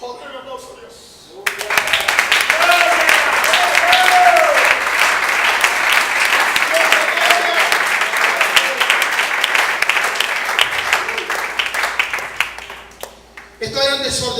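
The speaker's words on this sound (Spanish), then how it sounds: "el aplauso a Dios." A church congregation breaks into applause for God after a brief voice, a loud sustained round of clapping with some cheers that rises, holds for about ten seconds, then tapers before speech resumes.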